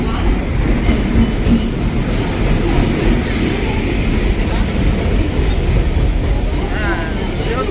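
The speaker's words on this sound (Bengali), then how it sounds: "আর এখান থেকে ট্রেন ধরে নিচ্ছি" A crowded local commuter train rolls along the rails near Kalyani with a loud, continuous rumble and rattle, a dense low roar carrying under faint voices of passengers.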